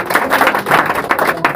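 A school class applauds a student topper with a short, dense burst of clapping from many hands, fairly loud and close throughout.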